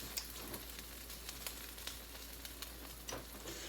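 A grilled sandwich sizzling in a hot pan just after being flipped, a steady faint hiss with scattered small pops and crackles throughout, no voices.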